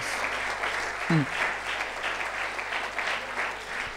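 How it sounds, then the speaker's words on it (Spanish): A church congregation at a Sunday service applauds together, moderate and steady clapping from a room of worshippers with faint voices mixed in and a brief low vocal sound partway through. "Vamos a dar un aplauso al Señor por eso"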